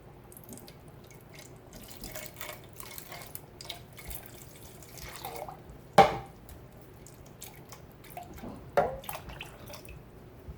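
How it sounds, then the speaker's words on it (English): Water trickles and splashes into an empty tomato can, rinsing out the last tomato, with swishing and a couple of sharper clanks as it is sloshed around. "to get the last little bit of tomato off the inside of the can, I add that water"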